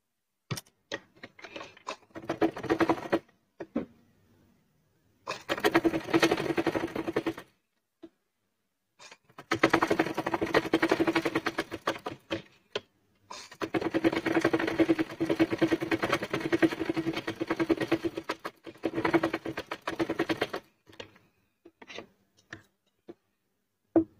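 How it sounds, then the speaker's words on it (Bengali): A sewing machine stitches a piped, gathered sleeve in several close, rapid clattering runs separated by short pauses. "মুহুরি রেখে আমরা এটাকে সেলাই করে নিব।"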